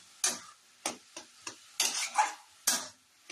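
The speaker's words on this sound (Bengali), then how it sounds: "তো এটা একটুখানি একটু ভেজে তোমাদের দেখাচ্ছি" Grated carrot for carrot payesh, cooked in milk, stirred in a pan: a series of about seven crisp scraping strokes at an uneven rhythm, close and fairly quiet, with faint sizzling between them.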